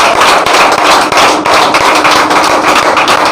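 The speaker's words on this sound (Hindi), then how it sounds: "तो हम लोग के लिए भी जोरदार ताली होनी चाहिए" Dense, continuous clapping from a crowd, loud and steady throughout with no pauses.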